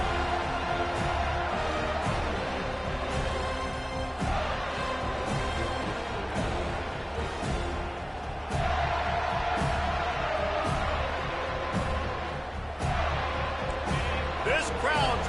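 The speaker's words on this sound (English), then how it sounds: "This crowd trying to show them what it's going to be like all day in this house." A packed stadium crowd at a Florida Gators football game roars in a steady, loud wash of cheering and shouting that swells in places, with a commentator's voice talking over it.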